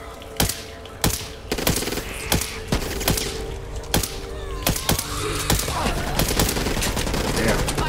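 Repeated handgun shots fired in the co-op zombie shooter Back 4 Blood, sharp loud cracks at an irregular, rapid pace over a busy game soundscape with faint voices.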